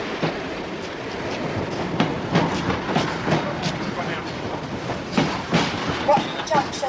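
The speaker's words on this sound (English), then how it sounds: "Train now arriving at platform 8" A train arriving at a platform at Watford Junction station rumbles and clatters along the rails with rhythmic clicks and a faint squeal, fairly close, with people talking over it.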